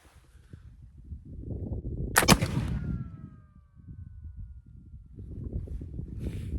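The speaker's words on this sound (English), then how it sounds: "slight hang fire again, but not bad" A flintlock musket loaded with a .44 caliber round ball fires after a slight hang fire, one sharp loud crack with a ringing tail, set between stretches of low outdoor background noise.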